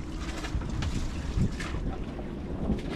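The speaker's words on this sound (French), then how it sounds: "Oh, ça souffle." Strong wind gusting outdoors, likely by the water, buffeting the microphone with a steady low roar and swelling gusts throughout, with no voices.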